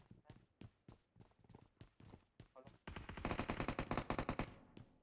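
Rapid bursts of gunfire from the PUBG Mobile video game in Payload mode, starting as scattered sharp cracks between talk and building into a dense, loud sustained volley toward the end while voices speak over it.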